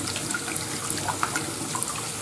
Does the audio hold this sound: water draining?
yes